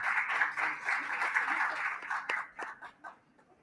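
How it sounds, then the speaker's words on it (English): Audience applause after two guests are introduced at an entrepreneurs' event on government and public policy, a dense, steady wash of many clapping hands that thins and fades out toward the end. "will you please give them a round of applause for me?"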